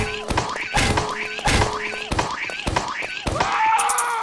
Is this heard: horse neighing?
no